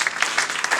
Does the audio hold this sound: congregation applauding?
yes